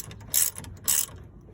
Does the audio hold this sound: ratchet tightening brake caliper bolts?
yes